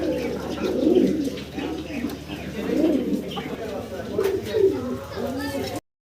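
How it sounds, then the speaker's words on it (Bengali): Pigeons in a loft coo with soft, throaty, rolling calls repeating every second or two nearby, while someone talks over them. "দেখতে পারতেছেন অসাধারণ কিছু কবুতর আমরা দেখাচ্ছি আপনাদের"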